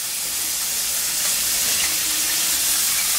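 Sliced onions fry in hot oil in a pan for a creamy red wine chicken dish, giving a steady, loud, close sizzle that holds without a break and with no talk over it.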